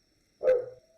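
A pet dog gives a single short, sharp bark nearby during an online tabletop role-playing session, loud against an otherwise quiet background.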